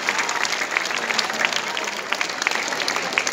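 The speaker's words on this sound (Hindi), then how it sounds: "एक बार तालियां तो बजा दो।" An audience at a poetry recitation applauds with dense, steady clapping throughout, close and sustained with a faint murmur of the crowd underneath.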